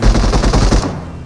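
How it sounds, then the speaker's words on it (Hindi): Rapid automatic gunfire from a battle royale mobile shooter, set in a military base map, rattles loud and close in a dense burst of shots for under a second before cutting off to quiet. "मुझे बाजू वाली बिल्डिंग से गोलियां चलने की आवाज आती है"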